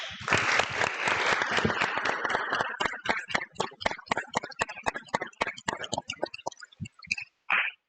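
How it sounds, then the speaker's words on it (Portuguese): Audience applause after a presentation at a scientific talk, a burst of many hands that thins into sparse, distinct individual claps and dies away, fairly quiet and close. "Acho que podemos dar um aplauso para..."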